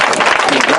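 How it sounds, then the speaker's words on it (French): A church congregation applauds loudly in a brief, dense burst of clapping that is over within a second. "Applaudis fort!"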